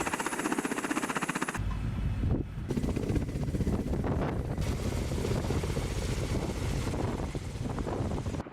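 Russian Ka-52 attack helicopter in flight over a bombing area, a loud continuous rotor thrum with pulsing chop and wind buffeting, the texture shifting after a brief cut early on.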